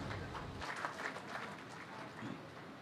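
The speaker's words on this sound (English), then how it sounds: "Warm applause, ladies and gentlemen, and hail to the new Chief Philippine National Police." Crowd applause at a Philippine National Police change of command ceremony at Camp Crame: a steady, distant wash of many hands clapping that holds throughout, fairly faint and without speech over it.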